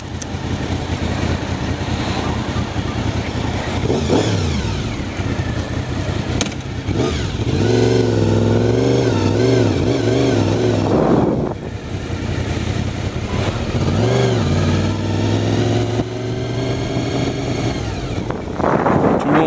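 A car driving home on the road from the post office, a steady engine drone with rising and falling revs as it accelerates and shifts, heard from inside the vehicle.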